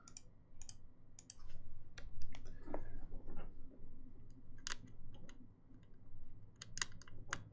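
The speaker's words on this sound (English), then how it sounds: "let's do a typing sounds test" Typing on a Cherry MX Black mechanical keyboard gives irregular bursts of sharp, close clacks and clicks, quiet overall, with pauses between clusters and no talking.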